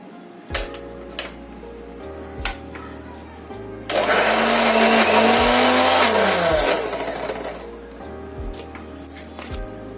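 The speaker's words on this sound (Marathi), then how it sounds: "आता आपण मिक्सरमध्ये वाटून घेऊयात त्याला" A mixer grinder blends a cooled spice paste with a little water for sukka chicken, a loud steady whirring burst of about four seconds that winds down, with scattered clicks and low hum before and after.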